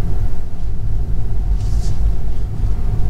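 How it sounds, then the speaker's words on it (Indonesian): Tire and road noise rumbles from inside a Tesla Model 3 electric car while driving, a loud, steady low roar with no engine sound, and a brief faint higher hiss midway. "Suara ban doang."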